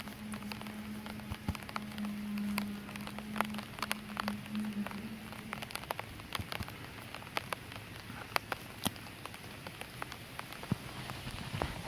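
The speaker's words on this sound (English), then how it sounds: "it is starting to rain now" Light rain patters outdoors in a garden with scattered, irregular drops ticking close by, a soft steady hiss under the sharper taps.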